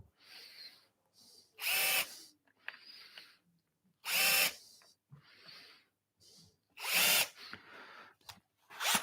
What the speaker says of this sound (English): This will give me a chatter-free countersunk for the screw to sit in.